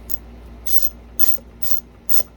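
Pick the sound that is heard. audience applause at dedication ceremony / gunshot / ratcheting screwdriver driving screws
ratcheting screwdriver driving screws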